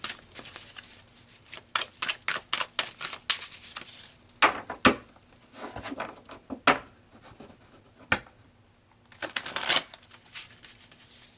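Tarot cards shuffled and pulled from a deck in bursts of crisp riffling and flicking, with short close snaps and pauses between handfuls, alone without talk.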